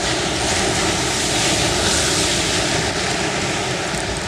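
A fixed-wing airplane on the ground just after landing, its engine roaring loud and steady without a break, close by and with no talk over it.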